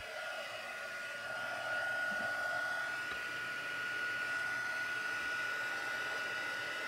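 An embossing heat gun blows hot air from underneath a stamped piece, a steady close whooshing hiss with a thin high whine that continues unbroken after switching on.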